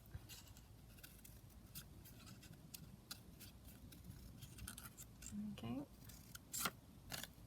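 Scissors snip repeatedly through a decorated book page, soft close crisp cuts with paper rustling between them, and a brief spoken word near the end.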